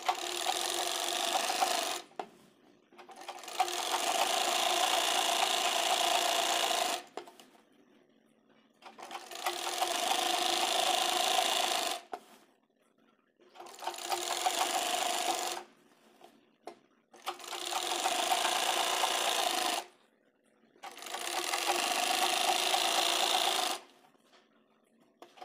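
Electric sewing machine stitching the leg of a dhoti salwar, running in five long bursts of steady whirring separated by short silent pauses.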